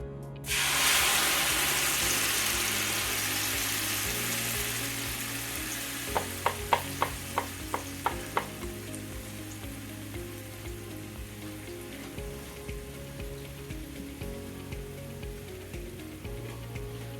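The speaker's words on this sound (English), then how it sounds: "We're just going to fry this for a few minutes." Food frying in a thin layer of oil coating the bottom of a pan for Mexican green enchilada sauce, a steady broadband sizzle starting abruptly and continuing throughout, with a short run of sharp clicks or pops midway.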